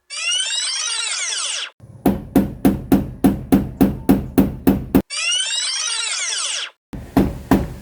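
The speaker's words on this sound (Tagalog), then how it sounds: "dandahan lang sa pagpalo sa martilyo na ginagamit natin." A hammer strikes in a quick, regular series of sharp blows, about a dozen in a row, during a solar panel installation, between bursts of a rising, chirping whine.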